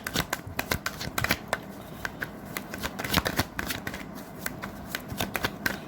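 Tarot cards are shuffled by hand at close range, a quick run of crisp riffling snaps and soft flicks that comes in uneven bursts, with no talking.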